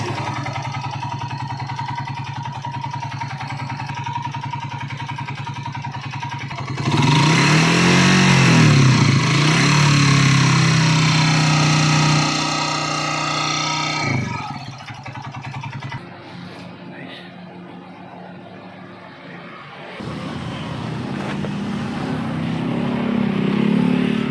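A 2008 Honda TMX155 motorcycle engine runs very noisily, with an idling drone that swells into loud revving, drops back, cuts off briefly and picks up again.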